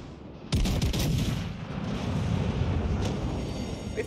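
Warship guns fire in World of Warships Legends: a sudden loud blast of naval gunfire, then a sustained rumbling roar with a smaller follow-up report, and no talking.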